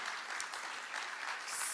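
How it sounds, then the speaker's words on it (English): An audience at a business expo startup panel applauds the panelists, a steady, fairly quiet burst of many hands clapping together in a hall, with no talk over it. "I just want everyone to give our panelists a round of applause"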